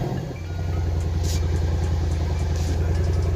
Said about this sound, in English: But let's go start the car up.